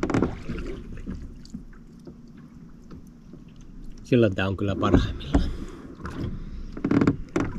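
Oars dip and creak as a small boat is rowed without a motor while trolling with two rods, giving close, intermittent splashy strokes over a soft background, with someone speaking briefly partway through.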